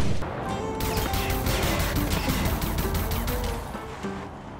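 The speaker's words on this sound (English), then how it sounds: "Oh, he crashed." A car crashes in the video game Far Cry 5, with a loud smashing impact followed by a run of rapid metallic clattering and crunching debris that fades out.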